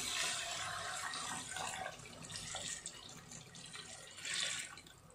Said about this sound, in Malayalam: നമുക്ക് അതിലേക്ക് അളന്ന് വെച്ച് വെള്ളം ഒഴിക്കുക, നാല് കപ്പ് വെള്ളം